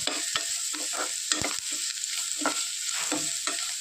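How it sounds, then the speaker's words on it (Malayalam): Carrot stir-fry masala with turmeric being sautéed in a pan, a steady sizzle of oil broken by repeated scraping stirs of a spatula at close range, with no voices. "നന്നായിട്ടൊന്ന് വഴറ്റി യോജിപ്പിക്കുക."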